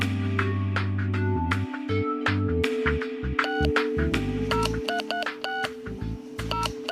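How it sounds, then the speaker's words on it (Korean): A telephone number is dialed on a keypad, a quick run of separate DTMF tones beeping one after another in an uneven rhythm, close and clear, with no talking. "사이트에 기재된 곳으로 전화를 해봤습니다"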